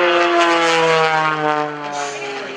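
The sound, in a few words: aerobatic light airplane with 400 horsepower engine diving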